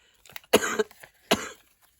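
Two short, sharp coughs about a second apart, close and fairly quiet, with a faint breathy sound just before the first.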